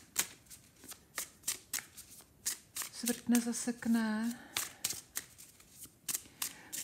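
Tarot cards being shuffled and laid down, a steady series of crisp, close card snaps and slaps in a regular rhythm, with someone speaking briefly over them midway.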